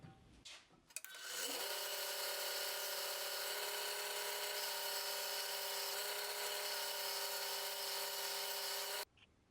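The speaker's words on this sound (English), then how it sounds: "With my grinder's tool rest at an angle, I sharpened the tool." A bench grinder sharpens a lathe cutting tool against its stone, spinning up to a steady whining hum with harsh grinding that holds evenly for several seconds before cutting off abruptly.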